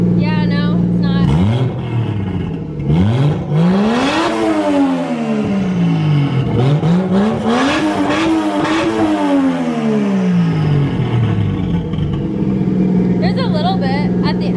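Nissan 240SX engine revving repeatedly, climbing and falling in rising sweeps from a rough idle, loud and close, with smoke coming from the car and people talking over parts of it.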